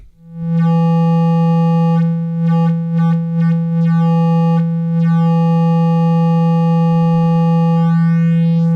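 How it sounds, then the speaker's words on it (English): Future Sound Systems Timbral Sculptor driven through an amp: a loud, steady low tone rich in stacked harmonics, with brief stuttering dips and bursts of upper overtones appearing midway before the sustained buzzy drone returns. "when I turned it up, you probably heard some harmonics, aka distortion, coming in there"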